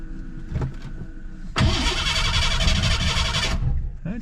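A Ford Bronco II engine starts in the snow: a few seconds of cranking and clicking, then the engine catches and roars loudly and steadily up close for about two seconds before dropping back.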